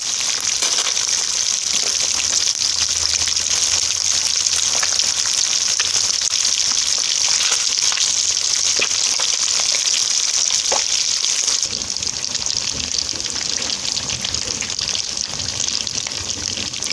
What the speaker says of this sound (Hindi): थोड़ा सा ऑयल आप ऐड कर लें कढ़ाई में या फ्राई पैन में, जिसमें आप इजीली फ्राई कर सकें फ़िश को।